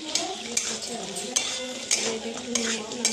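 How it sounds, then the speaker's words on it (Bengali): A utensil stirs paneer cubes in a pan for paneer chilli, with a faint sizzle beneath; metal scrapes and knocks against the pan at a steady, irregular pace, close and clear. "একটু নাড়াচাড়া করবো, একটু জল দিয়ে পনিরগুলো এটা একটু নাড়াচাড়া করে করে"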